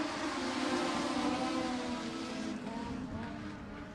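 Legends race cars in a qualifying heat at Maquoketa Speedway, their engines blending into a loud, steady, whining drone that holds for the whole stretch and eases slightly toward the end.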